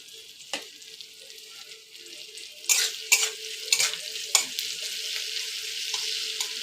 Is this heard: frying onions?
yes